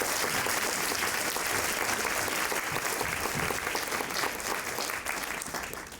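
Audience applause after a discussion celebrating Ashton, dense and steady clapping from a full room, sustained for the whole stretch and tapering slightly at the end, with no talking over it.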